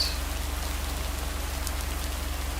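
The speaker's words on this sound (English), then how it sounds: "It's raining, so probably not." Steady rain falls outdoors by a lake, a constant even hiss over a low rumble, with no voices.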